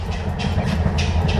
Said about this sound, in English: all of a sudden, hears a train